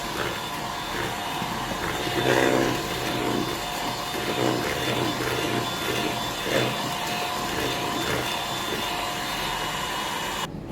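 Cake batter for a savory rice-flour cake being whisked or beaten, likely with an electric mixer, giving a steady, loud whirring drone with slight surges throughout and no talk.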